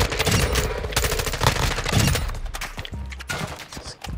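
Sustained automatic gunfire in Modern Warfare 2, loud and continuous for several seconds with dense overlapping shots and rattling bursts.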